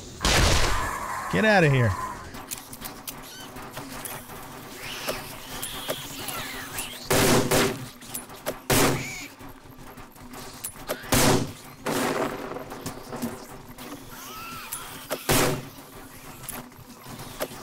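Grenade explosions in 7 Days to Die during a horde night, several heavy broadband blasts spaced a few seconds apart, loud and booming, with someone speaking briefly near the start and game noise between.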